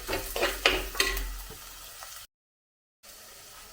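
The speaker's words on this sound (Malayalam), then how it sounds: "വെളുത്തുള്ളിയുടെയും ഇഞ്ചിയുടെയും പച്ചമുളകിൻ്റെയും ഒക്കെ വെള്ളമയം എല്ലാം മാറി നല്ല ബ്രൗൺ കളറായി ഒന്ന് മൂത്ത് വരണം" Garlic, ginger, green chilli and curry leaves crackle and sizzle in hot oil in a pan with a few stirring clinks, then cut to a short silence before a softer sizzle resumes.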